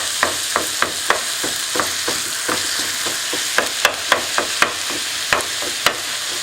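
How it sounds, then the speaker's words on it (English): Lean ground beef browning in a pan, a constant loud sizzle overlaid with repeated sharp scrapes and taps as the meat is broken up. "Then you're going to break all of the meat until you get brown."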